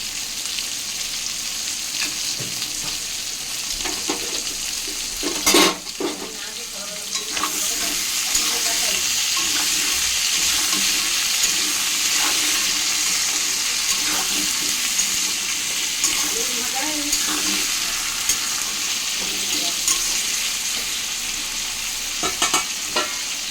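Pointed gourd and potato pieces sizzle steadily in oil in a pan, with occasional stirring scrapes and a louder clatter early on, the frying hiss continuous and close throughout.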